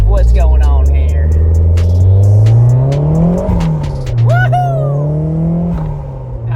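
A Toyota MR2 with a worn wheel bearing drives close by, its engine droning and rising and falling in pitch, and a voice speaks over it.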